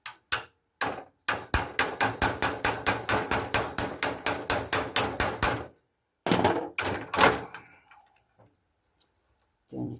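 A socket is hammered to drive on a tie rod dust boot of a Peugeot 404: a rapid run of about twenty sharp, close metallic blows, a pause, then a few more strikes and faint taps.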